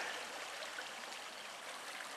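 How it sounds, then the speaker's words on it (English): A winter stream flows and trickles steadily through an iced-over section, soft and unbroken, with no voices. "You can probably hear the water."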